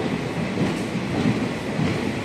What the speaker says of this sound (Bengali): ডিগবউ থেকে ট্রেনটি ছেড়ে তার পরবর্তী স্টেশন মাকুম জংশন রেলওয়ে স্টেশনের উদ্দেশ্যে রওনা হলো